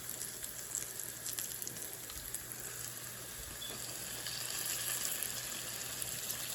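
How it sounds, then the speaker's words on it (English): Food laid into a hot pan to brown fries with a steady, soft crackling sizzle, close and continuous. "You can see how when you lay them in, how it's sizzling"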